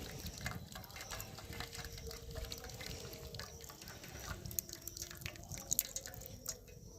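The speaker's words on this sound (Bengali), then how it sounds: "ছানা থেকে জলটা আমি ঝাড়িয়ে নেবো ভালো করে।" Water drains and drips from freshly made chhena (cottage cheese) as it is pressed, a faint, steady trickle with scattered soft patters and no talking.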